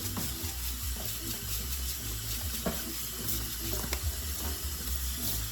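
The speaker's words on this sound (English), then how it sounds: "you're gonna have to wash it properly with a brush" A whole crab is washed and scrubbed with a brush under a running tap for Jamaican curry crab, water splashing steadily into a sink with light scraping and clatter over a constant hiss.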